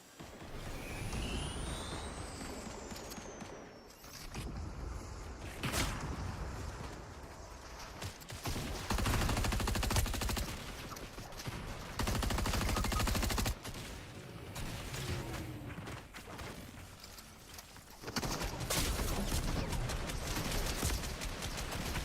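Gunfire in Fortnite, repeated bursts of shots in rhythmic volleys with pauses between, fairly loud over ongoing game sounds, no talk.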